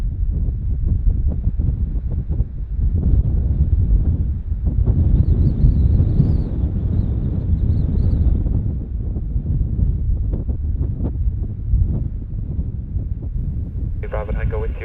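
Strong gusts of storm wind at Bristol Airport during Storm Dudley, about 27 knots gusting to 36, buffet the microphone in a continuous heavy low roar.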